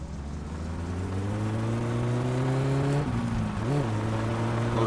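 A carburetted car engine in the driving game My Summer Car revs steadily with a droning exhaust, then dips briefly and climbs again, loud and close throughout, with no talking.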